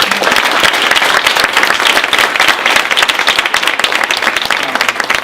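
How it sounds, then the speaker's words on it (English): An audience applauding panelists at a launch event, dense continuous clapping that stays loud and even throughout. "Round of applause for our panelists."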